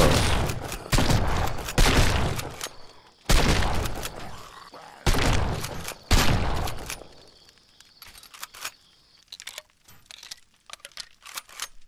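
Gunfire in the survival video game No One Survived: four loud, dense bursts of rapid shots with short pauses between them, followed by scattered softer thuds and clicks.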